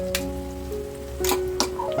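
Kolhapuri chicken sukka fries with kharda masala, a low, soft sizzle with a few brief crackling bursts. A faint steady hum runs underneath.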